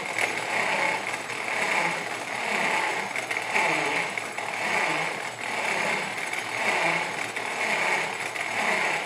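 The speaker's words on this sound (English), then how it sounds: "if we turn it up to 24 volts, get the motor going, we're gonna be able to go through all of the numbers." A motor-driven electromechanical flip dot number display runs on 24 volts, giving off a continuous, close, buzzing mechanical whir with faint rhythmic pulsing as it cycles through digits.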